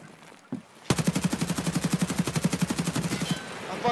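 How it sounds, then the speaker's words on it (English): Rapid automatic gunfire in Escape From Tarkov PvP, a loud sustained burst of evenly spaced shots lasting nearly three seconds after a brief thump, then fading into quieter ambience. "I just got shot at."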